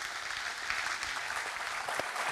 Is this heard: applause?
yes